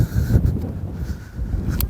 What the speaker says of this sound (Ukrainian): На дворі вітер